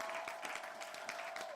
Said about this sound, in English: Where'd my little claps for 5th period?